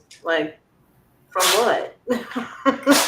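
A single sharp sneeze breaks through, followed by people talking nearby.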